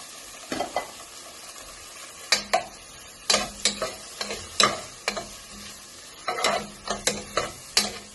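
Tomatoes fry in a pan with a quiet sizzle as a spoon stirs them, giving irregular scraping clatters that come in quick bursts close by, with no talk.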